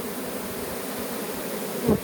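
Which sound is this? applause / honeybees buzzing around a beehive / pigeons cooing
honeybees buzzing around a beehive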